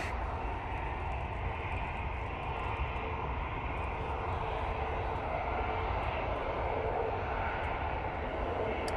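Airliner taxiing at Manchester Airport on a windy day, a steady broad jet engine roar at moderate distance that holds for nine seconds, with no speech.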